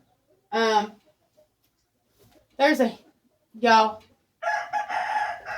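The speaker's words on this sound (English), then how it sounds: "There's a chicken right there." A rooster crows several times on a farm, short bright calls separated by pauses, the last one longer and more ragged, fairly close and loud with no talk over it.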